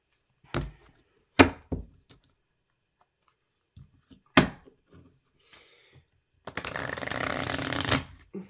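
A deck of flexible tarot cards is shuffled in a few short, crisp snaps and taps, then a louder sustained riffle ripples for about a second and a half near the end, close and without talk.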